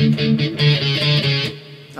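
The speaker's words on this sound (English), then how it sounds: "we're going to be playing some palm muted power chords and also some single notes" A distorted electric guitar plays slow palm-muted power chords mixed with single notes in the solo of a song, chugging briefly up close before fading.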